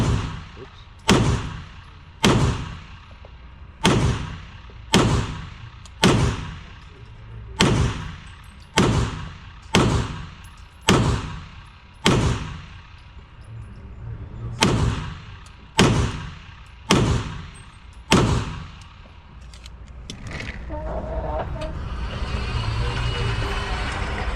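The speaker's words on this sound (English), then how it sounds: "I'm gonna do 15 shots at the other target" A Beretta 92XI Squalo pistol fires fifteen deliberate shots at a target, loud sharp reports at a steady pace about one to one and a half seconds apart, followed by a stretch of broadband noise.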